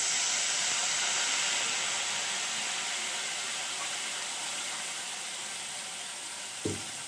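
Steady broad sizzle and hiss as water meets a hot pan of banana flower curry, the noise holding evenly and slowly easing, ending in a brief clunk.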